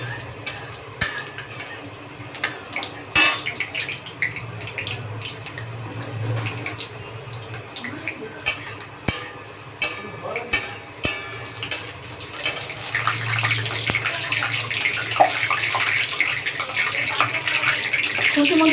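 Water on whole cardamom, cloves and cinnamon hissing and sputtering in hot cooking oil for chicken rezala, a steady close crackle broken by sharp clicks and clinks from the pot and utensils.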